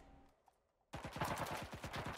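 Gunfire in the video game Cuisine Royal: after a near-silent pause comes a loud, rapid automatic burst of about a dozen closely spaced shots in an even rhythm, with no talking.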